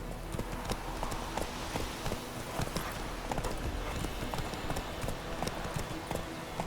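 Geralt's horse Roach gallops in The Witcher 3, a fast steady clip-clop of hooves on the ground that runs throughout at moderate volume, with a faint voice or two in the background.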